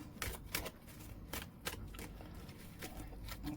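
Tarot cards being shuffled by hand, a quiet series of crisp riffling flicks in an irregular rhythm, close and soft with no talking.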